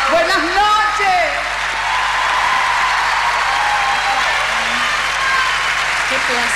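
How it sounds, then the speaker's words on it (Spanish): Concert audience at a show in Luna Park applauding loudly and steadily from start to finish, with a crowd roar under it and a voice calling out briefly at the beginning. "¡Fuerte el aplauso!"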